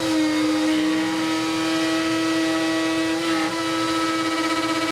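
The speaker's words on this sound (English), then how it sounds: "So if you listen closely, you can actually hear the machine starting to work really hard" A CNC router cuts a cavity in dense white ash with a large 3/4 inch dish bit, giving a loud, continuous tonal whine and chattering hum that strains steadily throughout.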